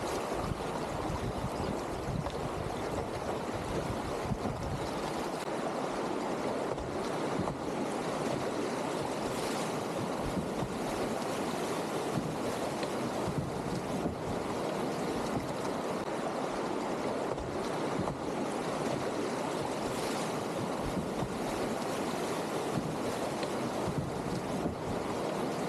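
A canoe runs mild Class 1 rapids on a Maine river, with a steady dense rush of churning water and wind buffeting the microphone throughout, no voices.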